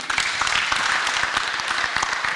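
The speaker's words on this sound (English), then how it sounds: "Kindly clap for the group." Brief burst of audience applause for a group at an international multidisciplinary conference at Lukenya University, a dense, close wash of many clapping hands throughout.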